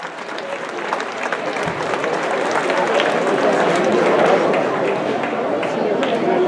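Sustained applause from an audience at a crowning ceremony during the Santo Niño town fiesta in Olivares de Júcar, a steady dense clatter of many hands, with voices faintly mixed in beneath.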